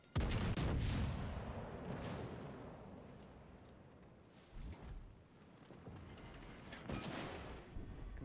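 Naval gunfire in World of Warships Legends: heavy booming salvos and rumbling blasts, loud and close, with several thunderous shots spread across the stretch and long rolling decay between them.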